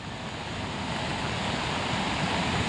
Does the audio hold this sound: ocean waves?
yes